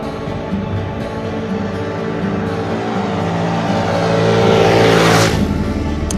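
A Jinlun JL50QT, an inexpensive Chinese 50cc scooter, accelerates from a standstill, its small engine droning steadily and rising in pitch and loudness toward the end with no talk over it.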